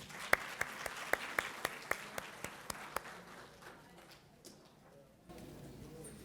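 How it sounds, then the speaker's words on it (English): Audience at a Parkinson's conference: a string of sharp, evenly spaced claps near the start that thin out and fade to quiet room sound. "So let's give a round of applause."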